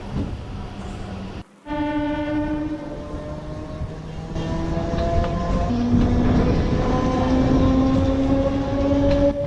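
A Narasapur MEMU Express train rumbles at Akividu railway station, its loud steady rolling noise carrying a sustained tonal horn-like whine that shifts pitch as it moves, close and continuous throughout.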